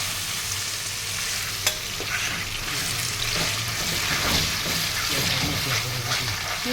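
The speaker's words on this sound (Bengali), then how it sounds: "আমি কিন্তু নাড়তেছি, বুঝছো?" A spoon stirs date pickle made with tamarind as it cooks in olive oil, scraping and clinking softly in the pan over a gentle sizzle while a person speaks now and then.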